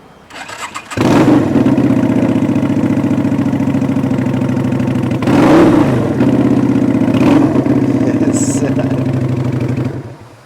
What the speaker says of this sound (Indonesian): Iya, knalpotnya suaranya moge banget teman-teman.